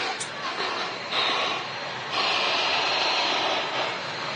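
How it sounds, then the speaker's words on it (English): A Ryanair jet takes off at Manchester Airport, heard as a steady, distant broadband roar that swells slightly partway through and holds without a break. "Ryanair taking off in the background there."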